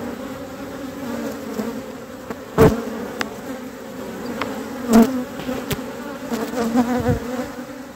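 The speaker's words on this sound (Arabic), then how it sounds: "النحل يخرج. انظروا إخواني، يخرج بكمية كبيرة" Honeybees pour out of a hive in large numbers, a continuous close buzzing drone with individual bees zipping past the ear in brief louder swells; no talking.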